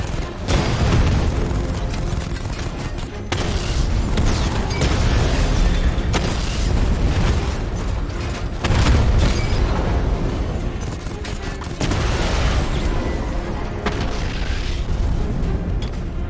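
Tank cannon fire and explosions in the Batman: Arkham Knight game, a loud, continuous series of heavy booms and rumbling blasts with mechanical clatter, dense and close throughout.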